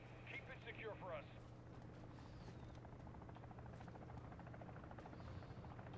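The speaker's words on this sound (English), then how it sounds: "for the chopper to come in and land" Helicopter coming in to land at an extraction zone in the video game Call of Duty DMZ, a steady close rotor thump and buzz throughout, with radio-style voices speaking briefly at the start.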